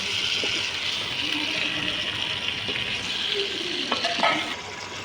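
Potatoes frying in a pan at an outdoor picnic give a steady, close sizzle, with a few scraping and clinking stirs near the end.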